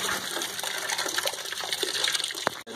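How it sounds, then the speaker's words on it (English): Water gushes and splashes steadily as a garden hose flushes the radiator of a John Deere 2155 tractor, a close, continuous rushing flow with no talking. "you can hear the water coming out."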